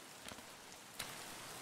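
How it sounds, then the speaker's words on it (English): Rain falls in the Escape from Tarkov video game, heard muffled and dulled as if through a helmet covering the ears, a faint steady patter with a few soft drops. "The helm covers our ears, so it dulls the sound of the rain."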